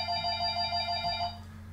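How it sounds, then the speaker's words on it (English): A telephone rings indoors, loud and close, with a rapid warbling electronic trill that pulses steadily for over a second and then stops over a low hum. "That's the phone ringing."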